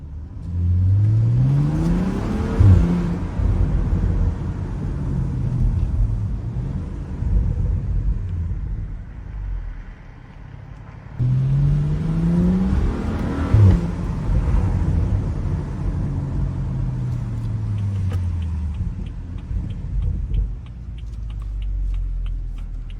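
BMW F30 335i with the N55 engine pulling hard from inside the car, two long accelerations with rising engine note and rumble, each followed by a settle back to cruising hum.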